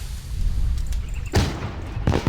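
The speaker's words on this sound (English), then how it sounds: "Firework!" A firework bursts in the video game My Summer Car, sharp broadband cracks striking twice over a low rumbling background, loud and close.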